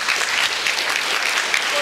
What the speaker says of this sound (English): could I please invite you all to have another round of standing applause to thank Madam Brundtland.